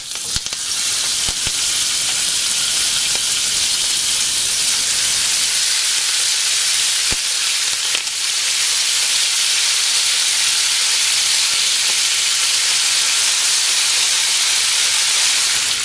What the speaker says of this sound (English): Now, it is time for the lamb to be grilled.